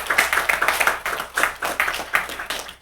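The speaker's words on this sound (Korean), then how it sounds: "박수 한번 좀 보내주세요" Congregation at a Sunday church service applauding elders over seventy, a steady burst of hand clapping with rhythmic surges, fairly loud and close, no talk over it.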